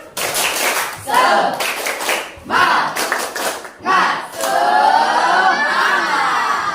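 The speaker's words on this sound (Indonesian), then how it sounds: "Kita tepuk semangat dulu yuk. Tepuk semangat." A classroom of students does a rhythmic spirit clap, loud bursts of unison clapping in a patterned beat broken by short pauses, with young voices shouting and chanting along between and over the claps.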